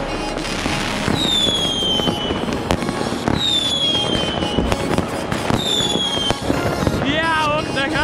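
Fireworks explode and whistle through a New Year's Eve celebration, with repeated bangs, crackles and rising whistling rockets filling the air continuously, some near and loud, while people talk in the background.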